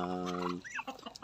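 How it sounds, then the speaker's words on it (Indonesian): Chickens kept together with muscovy ducks, a sustained harmonic clucking call for about half a second followed by brief softer chirps and rustling, close and fairly loud, with no speech. "Ini ayam dengan mentok ini pemirsa, kita jadikan satu."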